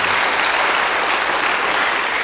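Dense, steady applause from a church congregation during a service, a continuous even wash of many hands clapping with no gaps across the whole stretch.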